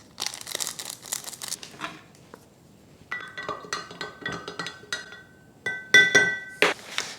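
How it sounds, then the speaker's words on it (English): A glass vase clinks and knocks as it is picked up and handled, bright close taps and chinks in irregular bursts with faint rustling between them. "Grab my vase."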